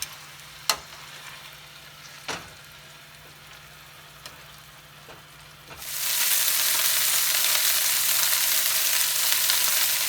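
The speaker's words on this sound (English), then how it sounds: "So what I'm going to do is I'm just going to brown this." Chicken browning in a frying pan: a few quiet clicks and knocks over a low hum, then a loud, steady sizzle bursts in partway through and continues strongly to the end.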